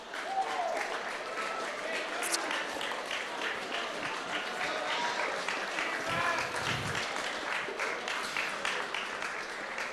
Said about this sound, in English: Big round of applause as we welcome up your runners-up.